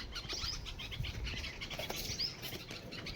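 A bulbul calls with short, bright chirps that repeat over a steady background hiss, at moderate distance, with no voices.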